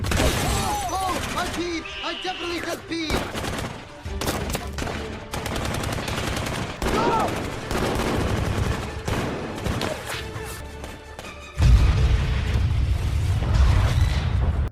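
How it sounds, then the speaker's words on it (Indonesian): Heavy gunfire during a shootout in a film scene, repeated sharp shots and fusillades with booms and shattering, loud and close throughout, with a voice talking over parts of it. "Lalu kelompok Ben mulai menembaki mereka dan terjadilah aksi baku tembak di antara mereka."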